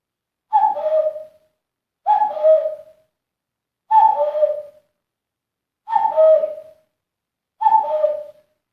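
Hands cupped together imitate a cuckoo's two-note call, repeated five times at an even, unhurried pace with silence between each hoot.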